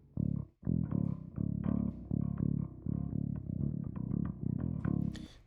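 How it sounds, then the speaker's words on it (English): Bass guitar played through an amp and recorded off the amp signal, heard alone in a heavy metal mix: steady, loud picked notes in a driving rhythm with a brief gap near the start and a faint bright scrape at the end. "Amp signal sounds like this."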